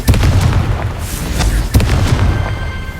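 Confringo spell blasts from the video game Hogwarts Legacy go off as loud, booming explosions, several heavy bursts in quick succession with crackling debris, close and dominant with no talk.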